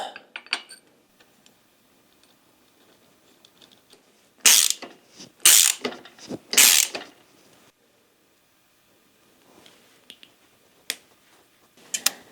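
Crank installation on a Specialized Sirrus bike, with three loud metallic clunk-and-ratchet bursts close by, then faint tool clicks and quiet handling.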